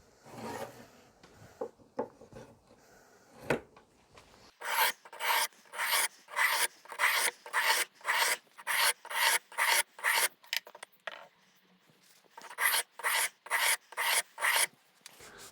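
A hedge shear blade edge is sharpened freehand with a file in rhythmic strokes, a few scattered scrapes at first, then steady runs of loud, close rasping passes with short pauses between sets.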